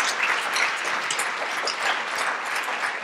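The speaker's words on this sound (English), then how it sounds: "Can we please give Jennifer and Melissa a big round of applause?" An audience at an architecture talk applauds presenters Jennifer and Melissa, a steady, fairly close burst of clapping from a modest crowd, continuous for the whole stretch.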